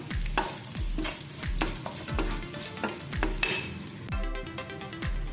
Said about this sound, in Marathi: थोडीशी आपण मोहरी घातलेली आहे थोडेसे आपण जिरे घालूया आणि कढीपत्ता घालूया त्यानंतर थोडं मिक्स करून घेऊया